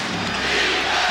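A basketball arena crowd chants defense at an NBA playoff game between the Knicks and Bulls, a dense, loud roar of many voices sustained throughout the short stretch, with no distinct speaker.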